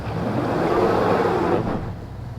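A GMC Sierra Ultimate Denali pickup in 2-wheel drive slides on loose off-road ground, giving a steady loud broadband rush of tire and engine noise that eases off near the end.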